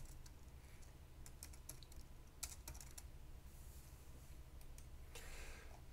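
Keys clatter on a computer keyboard as a password is typed, coming in short, faint bursts of clicks over a steady low background hum, with no talking.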